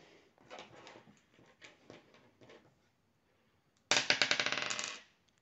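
50-centime and 1-euro coins are dropped into a budget envelope: scattered light clinks come first, then a short, dense, close burst of jingling metal.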